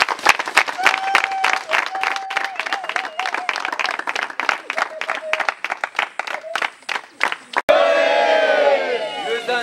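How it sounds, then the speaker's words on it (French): A crowd at a former-pupils gathering of the Institut de Madimba applauds in a steady, dense burst of clapping with cheers and shouts. Voices then rise loudly as the clapping ends. "Applaudissons."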